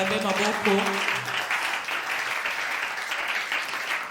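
A church congregation applauds during a Sunday service, sustained clapping filling the room under a voice speaking over it.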